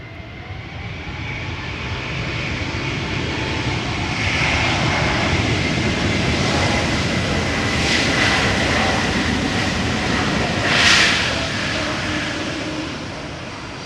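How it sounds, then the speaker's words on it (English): A Swiss Airbus A220 jet arrives at Amsterdam Schiphol from Zurich, producing a loud, sustained roar and whine that builds and holds steady as it passes, with a brief louder swell near the end. "Swiss Airbus A220 arriving from Zurich."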